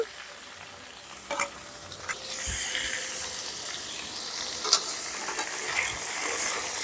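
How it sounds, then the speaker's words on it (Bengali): Potato and papaya pieces are stir-fried with turmeric, salt and spices, a soft continuous sizzle with a few sharp spatula scrapes and clacks against the pan, heard close and with no voices. "এখন মশলার সঙ্গে ভালো করে মিশিয়ে নিচ্ছে কিছুটা সময় নিয়ে মশলার সঙ্গে আলু আর পেঁপেটাকে কষাতে হবে"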